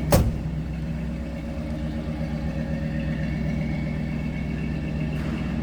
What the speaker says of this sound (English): Sounds like it should. 352 V8.